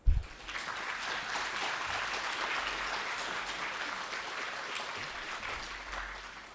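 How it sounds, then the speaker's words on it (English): An audience at a conference on the marijuana industry gives a sustained round of applause to welcome a panel, steady dense clapping that holds for several seconds and tapers slightly at the end. "Please give our panelists a welcoming round of applause."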